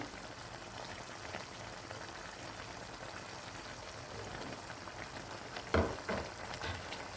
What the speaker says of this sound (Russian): Мясо у нас продолжает жариться.